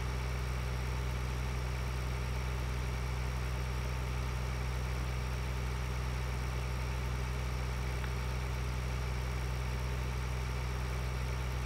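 A tractor engine in Farming Simulator 2013 drones steadily with a low, even hum and no change in pitch, loud and continuous throughout with no talk.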